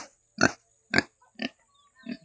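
Pigs grunting close by, four short rough grunts spaced about half a second apart with quiet between them.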